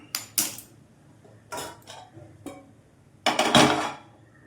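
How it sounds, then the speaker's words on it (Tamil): A tawa griddle is set down on a stove while cooking broccoli paneer cutlets, giving a few loud, bright metallic clanks and scrapes of the pan against the burner, separated by short quiet gaps. "இப்போது திரும்ப ஸ்டவ் ஆன் பண்ணி தவா வச்சுக்கலாம்"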